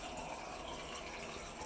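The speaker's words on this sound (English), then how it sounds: "then you get the water running so that you can wash your hands in the same area" Water runs steadily from the small tap over the tank-top sink of a Japanese toilet, a continuous close hiss and splash with no talk.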